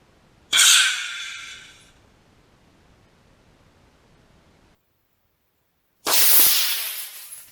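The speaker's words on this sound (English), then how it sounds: "the next rocket I'm planning to launch is the Estes Star Orbiter on an Aerotech" An Estes Star Orbiter model rocket on an Aerotech D15-4 motor launches outdoors with a sudden loud rushing hiss that fades over about a second, followed later by another strong burst of broadband noise.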